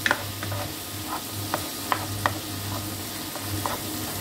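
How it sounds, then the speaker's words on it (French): Onion and crushed garlic cook in a pan for a quick Bolognese sauce, giving a soft continuous sizzle with a few sharp clicks of stirring or a utensil touching the pan; no talking. "Ici, j'ai de l'oignon et de l'ail écrasé. Je vais encore attendre un tout petit peu que ça cuise bien."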